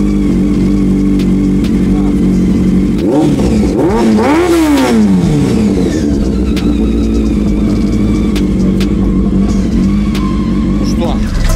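Motorcycle engine starting after a charging relay repair, a sharp cranking burst that catches and swells into a loud rev before settling into a steady close idle that runs on.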